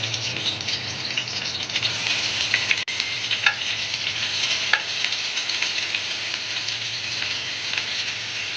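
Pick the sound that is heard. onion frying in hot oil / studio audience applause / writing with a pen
onion frying in hot oil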